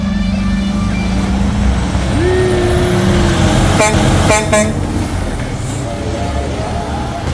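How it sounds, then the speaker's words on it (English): A crane truck, its boom folded up, drives out at close range with a loud diesel engine rumble and a rising whine, joined midway by a couple of short horn-like blasts and air-brake hisses. "That's an awesome truck, man. That crane is sick. Look at him driving out."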